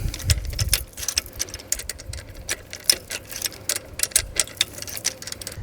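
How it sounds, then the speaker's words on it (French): Screws are tightened on the handlebar stem of an ADO Air 20 Pro folding e-bike, giving a run of small, sharp clicking ticks at an uneven pace with soft rustling between them, close and fairly quiet. "Et je termine par le serrage de ces 2 vis et de celle-ci."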